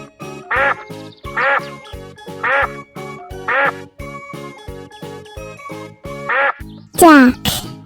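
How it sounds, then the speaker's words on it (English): A duck quacking in a regular series, six loud, evenly spaced quacks close by with short pauses between, the last one longer and more strained. "Duck."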